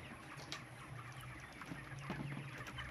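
Broiler chickens on a farm cluck softly in the background, scattered low calls over a faint, steady ambient hum.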